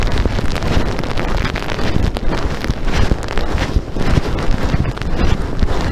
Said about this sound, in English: Oh, the wind gust going on.